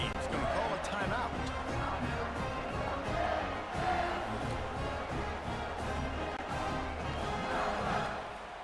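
Football stadium crowd roaring and cheering after a scoring drive, a dense, loud, continuous wall of voices with shouts throughout, as the kickoff unit takes the field.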